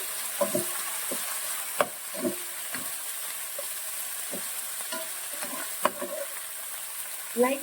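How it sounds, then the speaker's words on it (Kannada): Two medium-sized onions fry in a pan for biryani, a soft continuous sizzle broken by repeated scraping stirs of a spatula, close and moderately quiet with no talking. "ಎರಡು ಈರುಳ್ಳಿ ಹಾಕಿದ್ದೀನಿ ಫ್ರೈ ಮಾಡ್ಕೊಳ್ಬೇಕು"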